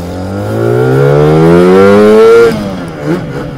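A Lambretta TargaTwin 275cc scooter accelerates on a road ride, its engine note climbing steadily in pitch and loudness through the gears before easing off at the shift, heard close and alone.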